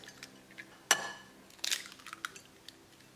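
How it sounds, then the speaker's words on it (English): Egg cracked against a hard edge and broken open into a bowl while making a pan-fried eggplant coating, a sharp crack followed by a brief wet splat and faint clinks in a quiet kitchen. "We're going to break open the egg"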